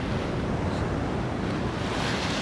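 A huge winter sea wave approaching a Crimean breakwater, a dense unbroken roar of surf and churning water mixed with strong wind rumble on the microphone, loud and sustained for the whole short stretch.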